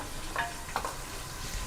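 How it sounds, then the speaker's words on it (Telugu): Ginger garlic paste fries in a pan with a quiet, even sizzle, broken by a couple of faint stirring clicks from a utensil. "అల్లం వెల్లిగడ్డ పేస్ట్ బాగా వేగుతుంది కదా"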